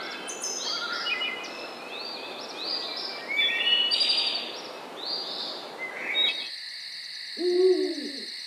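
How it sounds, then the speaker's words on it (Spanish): An owl hoots once near the end, a short hollow call standing alone after a dense nighttime chorus of insects and birds cuts off. "La luna es un emblema de la noche, como el ulular del búho."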